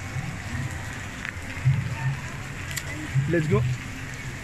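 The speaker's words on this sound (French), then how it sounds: "C'est de la grosse pluie." Heavy rain falling at an amusement park, a steady broadband patter throughout, with people talking briefly over it.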